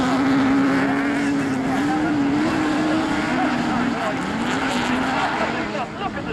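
Autograss race cars roar together at full throttle into the first corner, a dense, loud engine drone with shifting pitch that tails off slightly at the end, while someone talks over it.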